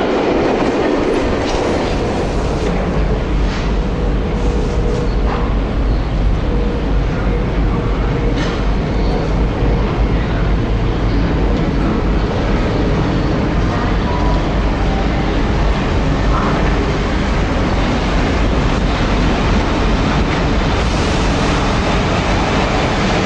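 Southwest Trains Class 455 electric train in southern London, rumbling steadily and loudly throughout with clickety-clack wheel rhythm and broad rail noise, close and continuous.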